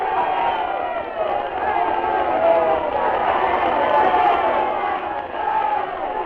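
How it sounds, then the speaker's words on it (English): A castle crowd cheers and shouts in a dense, continuous roar of many voices, steady and fairly loud throughout, with a faint rhythmic tapping underneath. "she heard the sound of cheering and shouting"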